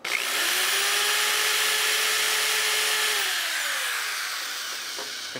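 A power drill bites into a center-punched spot on metal, a loud continuous whirring whine holding steady for several seconds before gradually tapering down.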